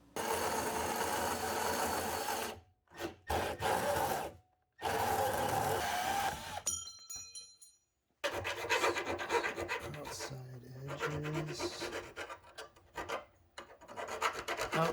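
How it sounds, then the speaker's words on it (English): Rasping strokes of a Tsubosan curved file deburring cut Unistrut steel channel, in short bursts separated by silent gaps, close and distinct. "designed to file off the burrs on the contours of Unistrut"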